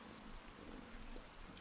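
Steady, soft rainfall in the medieval-setting video game Pentiment, a faint even hiss of drops spread across the whole clip with no voices.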